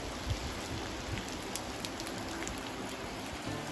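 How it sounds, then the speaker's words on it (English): Heavy rain pours steadily beneath an all-wood covered bridge in the Catskills, a dense hiss of drops drumming on surfaces with a few louder splashes, no talking. "And it is raining like crazy."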